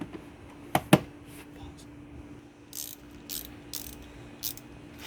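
A ratchet clicks as bolts are tightened while a K&N air filter is fitted to a Jeep Gladiator, with a couple of sharp metallic snaps followed by lighter intermittent ratcheting strokes, close and fairly quiet.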